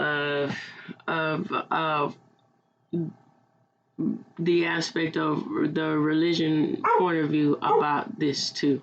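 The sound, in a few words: dog barking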